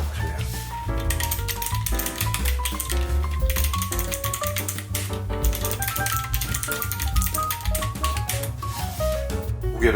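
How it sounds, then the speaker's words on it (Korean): Someone types rapidly on a Keychron K7 mechanical keyboard with blue clicky switches, giving a dense, continuous patter of sharp, close keystrokes over background music. "타건음이 높다고 합니다."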